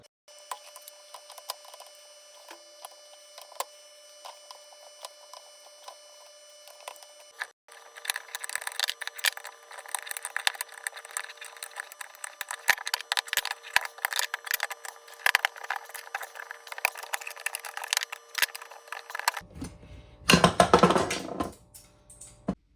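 Thick steel Mann oil filter canister being cut open, a steady rasping, scraping cut that grows louder and denser partway through, ending in a short burst of loud grinding.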